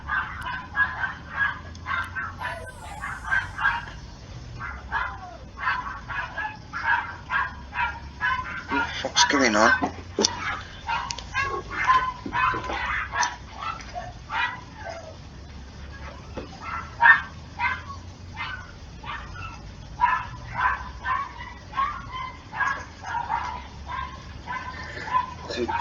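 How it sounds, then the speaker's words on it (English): Two dogs fighting outside bark, yip and whimper in scattered bursts, somewhat distant, while someone talks over them throughout. "Two dogs bloody fighting outside if they carry on"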